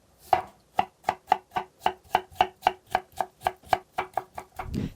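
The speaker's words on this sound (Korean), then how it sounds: "오이는 가늘게 채 썰어 주시면 됩니다." A knife cuts cucumber into thin julienne strips on a cutting board, giving about fifteen crisp, evenly spaced chops in a steady rhythm, close up and with no talking.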